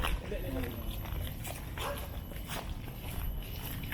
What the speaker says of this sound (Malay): Anjing hutan lagi kecoh